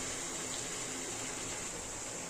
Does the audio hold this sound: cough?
no